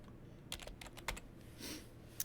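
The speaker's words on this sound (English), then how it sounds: "we typed in left" Several quick, quiet clicks of typing on a computer keyboard, irregular keystrokes close by in an otherwise quiet room.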